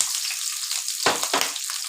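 Onion hitting a hot pan with garlic, a bright high sizzle with two short bursts of louder crackle as pieces go in, close and brief.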